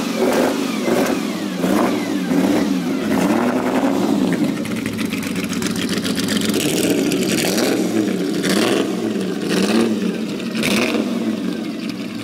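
An old car's engine at a supercar gathering at Blenheim Palace cranks and catches, then revs repeatedly in loud close bursts, rising and falling in pitch with no talk over it.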